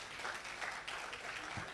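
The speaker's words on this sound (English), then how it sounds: "And you are clapping the way you are clapping." Faint, distant audience clapping at a graduation ceremony, a brief continuous patter of applause heard from afar.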